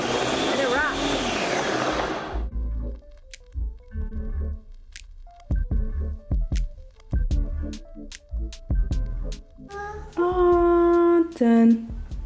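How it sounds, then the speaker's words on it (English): A kitchen blender runs on its smoothie setting to blend an energy smoothie, loud and steady for about two seconds, then stopping; a few clicks and thumps follow, and a high whirring burst returns near the end. "I'm just gonna turn the blender on."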